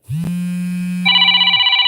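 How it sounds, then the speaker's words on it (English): Phone alarm going off loudly nearby, a sustained low electronic tone that switches to a rapidly warbling high-pitched ring. "that's my alarm"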